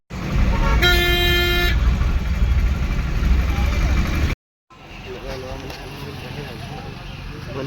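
Dense road traffic jam around an NCC camp trip in Adityapur, with a loud car horn blaring near the start over a constant rumble of engines and crowd noise, followed by a brief dropout and quieter traffic with people talking.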